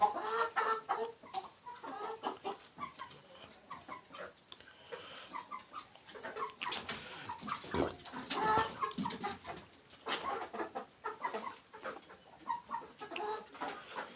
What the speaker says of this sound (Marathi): ही आपली कोंबडी आहे